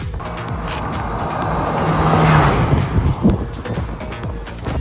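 A Mahindra XUV 700 and a Mahindra Thar 4x4 accelerate in a drag race, engines roaring louder as they close in and pass, then fading, with tire noise and no talk.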